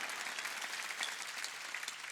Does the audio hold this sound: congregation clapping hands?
yes